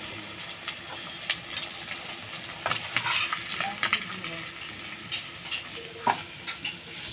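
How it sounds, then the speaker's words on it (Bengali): Brinjal (eggplant) pieces sizzle in hot oil for a spicy tengra fish curry, with steady frying hiss and occasional sharper crackles and stirring clatters, fairly quiet and close, with no talking. "তেলে বেগুনগুলি ভেজে নেব"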